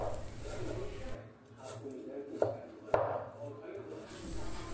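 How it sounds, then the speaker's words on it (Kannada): A knife chops through bamboo shoot on a board, giving a couple of sharp, distinct cuts among softer slicing and handling noises, with a voice talking over the work. "ಹೀಗೆ ನೀವು ಎಲ್ಲ ಕಳಲೆಯನ್ನು ಕಟ್ ಮಾಡಿ ಇಟ್ಕೊಳ್ಬೇಕಾಗುತ್ತೆ"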